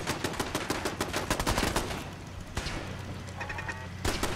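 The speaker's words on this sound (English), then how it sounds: "I don't know where you guys are shooting." Rapid bursts of gunfire from a Fallout 4 fight aboard a ship, with fast repeated shots in dense clusters and short gaps between them. The shots sound moderately loud and no voice is heard.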